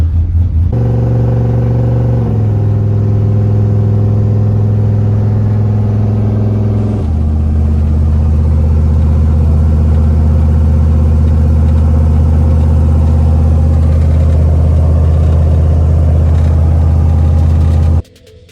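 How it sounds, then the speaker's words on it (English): A GMC Silverado pickup with a turbocharged 6.0 LS engine drives along, its loud, steady engine drone and low rumble holding throughout with shifts in pitch as it changes gear, no voices present. "I just started the truck this morning"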